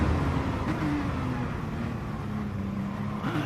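Audi GT race car engine at Monza in GT Sport, droning steadily as it nears a braking zone, pitch holding then dipping with a brief downshift blip near the end.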